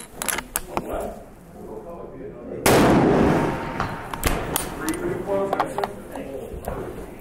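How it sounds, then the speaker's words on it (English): A free recoil gun fires once at a shooting range, a single sharp, loud report partway through while people talk before and after. "it's a free recoil gun."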